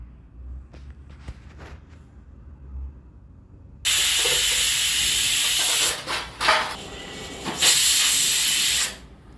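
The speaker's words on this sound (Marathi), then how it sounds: "कुकरचे झाकण लावून हाय फ्लेमवर याच्या आपल्याला 3 शिट्ट्या करून घ्यायच्या आहेत" A pressure cooker on high flame lets off loud hissing steam whistles, a long continuous blast followed by shorter bursts, close and alone.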